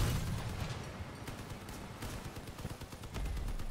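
Rapid auto cannon bursts from armored vehicles in the Crossout combat game, a dense, continuous stream of heavy thumping shots and impacts that stays loud throughout, with no voices over it.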